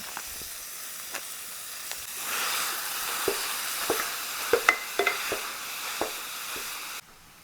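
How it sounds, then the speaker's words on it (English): Ingredients for homemade vegetable beef soup sizzle and hiss steadily in a pan. Close utensil scrapes and stirring knocks tap irregularly over the frying, which then cuts off abruptly near the end. "going to put it right in our pan and cook it"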